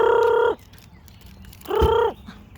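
Pet chickens, five of them, cluck loudly and close by in two drawn-out calls separated by a short pause with quiet background.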